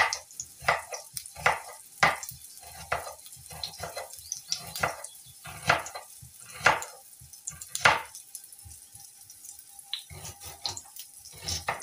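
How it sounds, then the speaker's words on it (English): Knife chopping ingredients for egg curry on a cutting board, a steady series of sharp taps near the mic with brief pauses and faint kitchen noise underneath. "And let me continue cutting this."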